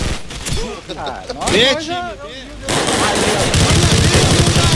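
Rapid automatic gunfire and explosions in a Call of Duty match set in Rocinha, Rio, loud and continuous, with shouted voice lines cutting in over the combat.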